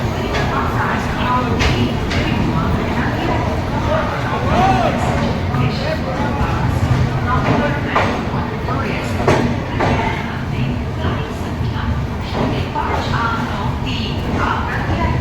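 The Brahmaputra Mail stands at Rangiya railway station, its sleeper coach filled with a steady rumble, passenger chatter and scattered knocks and clatters from boarding travellers; someone speaks over the constant station hubbub.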